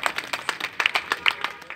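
An audience at a political speech in Jalna claps, a brief burst of quick irregular hand claps from a small crowd, moderately loud and close, with no speech over it.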